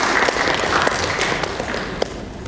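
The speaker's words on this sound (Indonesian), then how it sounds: "Tepuk tangan untuk kita semua di siang hari ini" Audience applause at a technical meeting on cultural heritage in Indonesia, a steady wash of many hands clapping that tapers slightly toward the end, with no voice over it.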